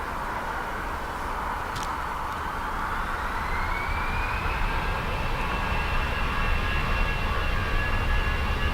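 A jet airliner takes off from runway 10 right at Dublin Airport in windy, wet weather, its engine roar building steadily into a loud, sustained rumble with a rising whine, no voices over it.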